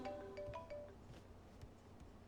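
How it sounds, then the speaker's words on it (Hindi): A short melodic phone ringtone chimes a few notes at the start, quiet, then fades into faint background noise. "देखो फोन आ रहा है।"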